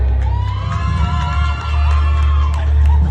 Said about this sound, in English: Now give a round of applause if you think the bride won.